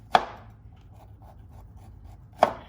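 Two crisp knife chops through fresh bamboo shoots on a cutting board, roughly two seconds apart, close and clear, with faint scraping between them.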